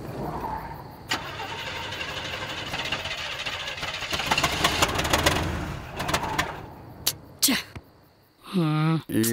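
A car engine struggles and dies with a faulty, knocking rumble that swells and then sputters out, followed by sharp clicks and a voice speaking near the end.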